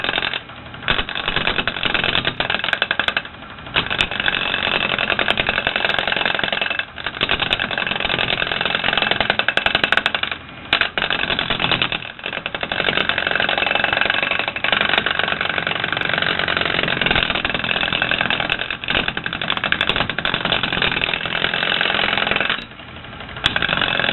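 A tigerwood bowl is shaped with a bowl gouge on a spinning lathe, giving a dense continuous scraping and rumbling with frequent short breaks as the tool lifts from the wood, loud and close throughout.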